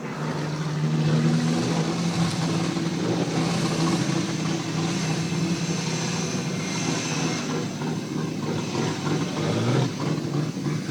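A street stock race car idles after a heat at Collie Ridge speedway, a loud, continuous, rumbling engine drone heard close by that holds steady throughout with no voices.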